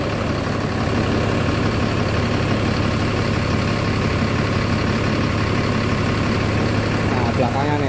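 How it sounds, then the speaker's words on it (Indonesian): A large bus engine idles with a steady low hum and rumble throughout, and a person talks briefly over the noise. "ini suara mesinnya nih"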